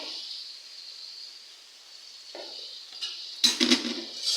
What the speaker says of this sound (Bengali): এখন একটু ভালো করে নাড়াচাড়া দিব, যাতে চিংড়ি মাছের সাথে পেঁয়াজটা ভালো করে মিশে যায়